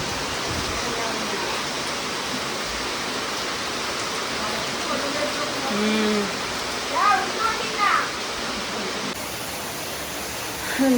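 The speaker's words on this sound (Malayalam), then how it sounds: "നല്ല മഴ എന്ന് പറഞ്ഞാൽ നല്ല മഴയാണ്." Heavy rain pouring in a steady, loud, broadband wash, with a voice and other speech briefly breaking through near the middle and end.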